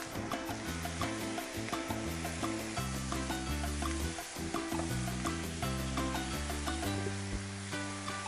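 Spicy chicken legs searing on a grill, a soft continuous sizzle with the heat turned down, sitting low under steady background music.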